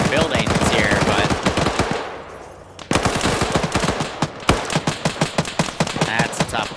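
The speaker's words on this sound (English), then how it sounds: "Got the MGs up there tearing them apart." Rooftop machine guns in an urban firefight video game fire loud, rapid bursts of shots, pausing briefly before rattling on in fast, evenly spaced volleys, with no voices over the gunfire.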